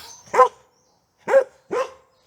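A dog barks three times indoors, one sharp bark and then a quick pair after a pause, fairly close and loud with no voices over it.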